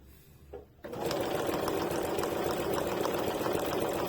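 A sewing machine runs a 3D satin stitch through fabric backed with stabilizer, starting after a brief pause and then humming steadily and loudly in a dense, continuous whir.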